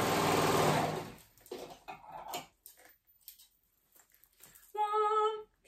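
A sewing machine stitches the short raw edge of a folded fabric band into a continuous loop, with a loud opening run, scattered handling clicks and rustles, then a second short steady whir near the end.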